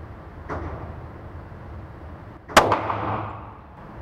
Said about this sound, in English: Then pull the trigger slow.